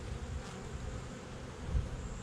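Honey bees buzzing at an open hive frame during an inspection, a soft steady low drone close by with no talking.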